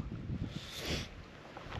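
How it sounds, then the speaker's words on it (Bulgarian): Wind blows across an open, high spot at the Pchelina reservoir, a steady buffeting rush with low gusty rumble against the microphone and a brighter whooshing swell in the middle. "Тук духа доста вятър"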